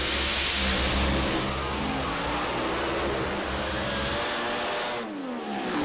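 Top Alcohol drag racing cars at the Summer Nationals in Sydney roar down the strip in a loud, dense engine blast that fills the recording and eases slightly near the end.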